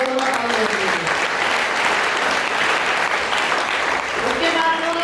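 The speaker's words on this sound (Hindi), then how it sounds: "एक बार जोरदार ताली बजाइए" Audience clapping fills a business seminar hall in Greater Noida, a steady, dense roar of applause from a large crowd that holds throughout, with some voices and cheering faintly mixed in.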